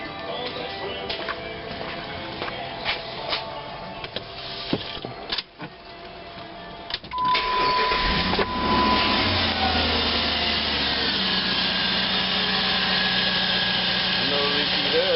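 A 2002 Jeep Grand Cherokee engine, just after a thermostat replacement, cranks and catches about halfway through, then settles into a loud, steady idle. Quieter clicks and handling noises come before the start.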